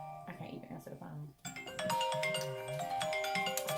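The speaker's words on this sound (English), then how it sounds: "Excuse my phone for ringing." A phone's ringtone plays as a bright, repeating tonal melody that starts partway through and continues steadily, preceded by a woman's speech.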